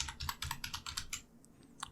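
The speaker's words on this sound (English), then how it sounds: "Press enter on my keyboard." Rapid keystrokes on a computer keyboard: a quick, even run of about eight close, crisp taps, a brief pause, then one final firmer press like the enter key.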